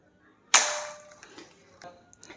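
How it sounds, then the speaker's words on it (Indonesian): A bullpup airsoft rifle fires a single sharp, loud crack during an FPS chronograph test, followed by a fading rattle and a couple of small clicks in an otherwise quiet room. "Oke langsung saja kita akan tes FPS-nya, kita tembakkan ya."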